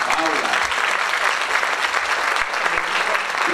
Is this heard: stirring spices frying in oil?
no